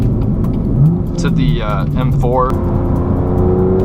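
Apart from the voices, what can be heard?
BMW M2 F87 accelerating with DCT gear shifts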